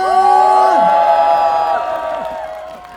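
A festival crowd at an apple festival cheers and whoops for a fan club, loud and close, with sustained shouting voices dominating the mix and no distinct clapping standing out.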